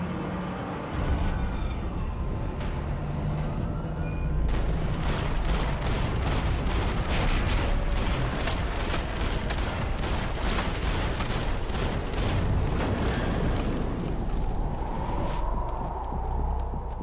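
Gunfire from the video game Max Payne 3, with a burst of rapid, sharp shots clustered in the middle, set against a steady bed of game ambience and mechanical noise.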